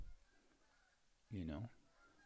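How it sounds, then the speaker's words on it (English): A short burst of goose-like honking calls passes by, fairly loud for about a quarter second amid quiet outdoor background. "you guys hear those birds? There's birds flying by my house."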